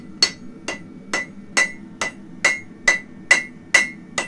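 A blacksmith's hammer strikes hot iron on an anvil, drawing out the bar in nine evenly spaced, ringing blows about half a second apart, close and loud with no talk.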